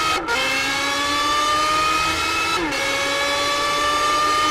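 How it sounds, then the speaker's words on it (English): Super GT race car engine in Gran Turismo 6 on the Motegi circuit, a loud, steady high-revving drone whose pitch dips briefly around a gear change before it climbs and holds again. "We're also listening to the engine noise to come down."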